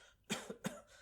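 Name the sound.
cough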